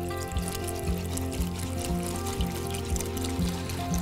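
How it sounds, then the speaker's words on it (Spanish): Milk mixed with cornstarch and evaporated milk is poured into a pot of champurrado, a steady liquid pouring and trickling sound over a repeating low background rumble, with no talk. "Y ahora sí, viene más fácil, literalmente integrar nuestra leche."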